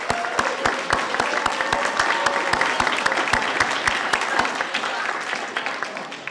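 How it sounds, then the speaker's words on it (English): Applause for middle school students at a STEM fair, a crowd clapping steadily with distinct individual claps standing out near the microphone, gradually thinning toward the end. "I'd just like to give them all a round of applause right now for all the work they"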